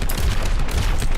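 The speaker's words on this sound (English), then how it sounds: "you can not spam your rockets like that" Rockets fire in the video game Overwatch: a loud, dense burst of rapid blasts that runs unbroken through the whole short moment.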